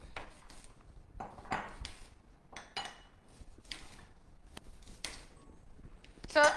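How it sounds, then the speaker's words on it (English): An onion is chopped for a Jamaican escovitch sauce: irregular knife knocks on a board, roughly a second apart and fairly close, ending with a sharp clink. "so he's chopping up his onion."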